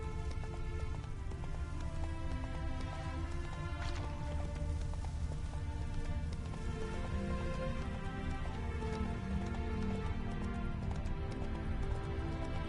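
Roach, a horse in the video game The Witcher 3, with steady hoof clip-clops running under a dense, constant rain-like patter and a low background hum the whole time.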